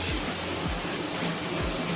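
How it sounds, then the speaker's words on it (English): Pressure washer spraying at close range to clean specks from a screen printing screen during reclaiming: a loud, steady hissing spray with a constant roar underneath and a few low thumps, with no talking. "get real close with your pressure washer and get them out"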